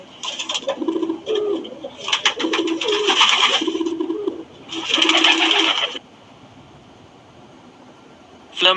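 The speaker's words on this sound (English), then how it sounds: "Pigeon." A pigeon coos in several soft, throaty bursts with short gaps between them, close and clear, then a quiet stretch before a brief final sound.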